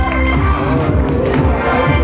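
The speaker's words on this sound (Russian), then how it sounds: "Эти аплодисменты вам. Ура!" An audience in a cafe applauds and cheers together, a dense, steady and loud wash of crowd noise with no pauses.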